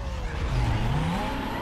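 A race car in Need for Speed: Most Wanted (2005) launches hard, its engine revving up with rising pitch and tire squeal, loud and continuous.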